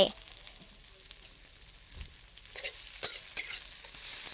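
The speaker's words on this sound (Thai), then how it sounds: "เจียวให้เหลืองก่อนนะคะ ก่อนที่จะใส่หมูลงไป" Frying in a pan until golden, before pork is added, with a quiet sizzle and occasional scrapes and taps of a stirring utensil that grow busier toward the end.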